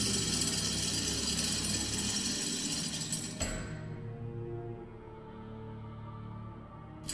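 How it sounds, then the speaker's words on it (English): An old crank handle turns in the Lost Horizon game, giving a dense mechanical grinding and ratcheting that cuts off abruptly, followed by lower clunking and a fading resonant rumble. "Let's see if the crank handle still works."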